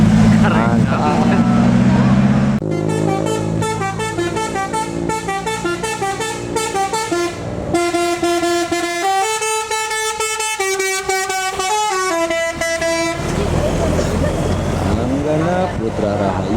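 Indonesian telolet basuri musical horns on buses and trucks, blaring loud multi-tone melodic sequences that shift pitch in quick stepped phrases, with rougher engine and crowd noise at the start and end.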